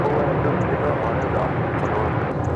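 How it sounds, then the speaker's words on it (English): A United Airlines Boeing 737-800 departing LAX toward Vancouver gives a loud, sustained engine roar that holds steady, with radio voices talking over it. "next departure is United Airlines Flight 2103 heading to Vancouver in a 737-800"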